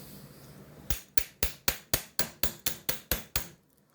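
A GM starter nose cone is tapped with a hammer to separate the case from the motor, giving eleven sharp, evenly spaced metallic knocks up close, each ringing briefly before the next.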